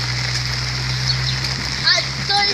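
Heavy night downpour during flooding in Sochi, a dense steady hiss of rain with splashing runoff, a low steady hum beneath, and brief faint voices toward the end.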